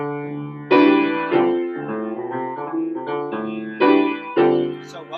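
Piano chords built from stacked fourths, struck one after another with accented attacks that ring and decay, played alone and fairly loud.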